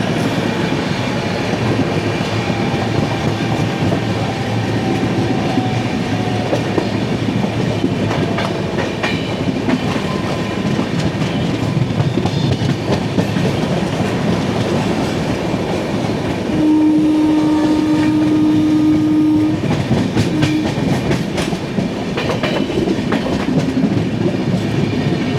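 The 22208 AC Express from Thiruvananthapuram Central to MGR Chennai Central rumbles loudly along the rails with continuous clickety-clack, and a sustained horn-like tone sounds for a few seconds partway through.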